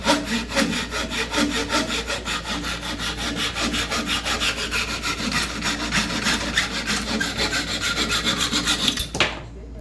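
An old-school hand saw cuts through a board in quick, steady rhythmic strokes, each push and pull a loud rasping rub close up, before the final stroke breaks off and the sawing stops.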